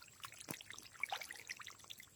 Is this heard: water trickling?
yes